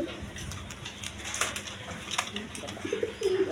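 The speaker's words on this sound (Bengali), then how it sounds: "দেখেন কোয়ালিটি সম্পন্ন কবুতর" Black Bombay pigeons at a loft sale coo in a low, rolling murmur throughout, with faint rustling and flapping around them and a brief stronger burst near the end.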